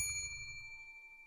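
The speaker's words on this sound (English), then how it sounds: "Ring the bell." Single bell struck once on a live radio talk show, giving a clear, bright ding that rings out and slowly decays, with no talking.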